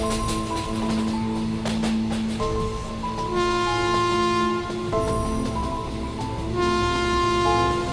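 A train runs on its rails with a steady rumbling, clattering ride, several sustained horn-like tones and whistles sounding over it, loud and continuous throughout.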